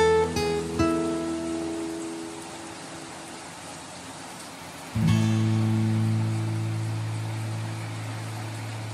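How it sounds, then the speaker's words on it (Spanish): Rain from Tropical Storm Amanda in San Salvador falls as a steady hiss, joined by sustained droning tones that fade in the first seconds and return loudly near the end. "Esta tormenta estaba pasando"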